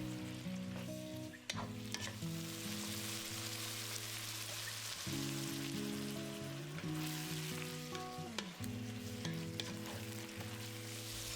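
Eggplant with minced pork sizzles and fries in a pan as water is added a little at a time, a steady crackling hiss with stirring clatter, occasional sharp spatters and a faint tonal hum underneath.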